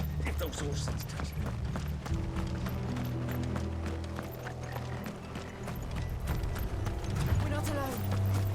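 Horse hooves gallop in Final Fantasy XVI, a steady clip-clop running throughout under game music and voices.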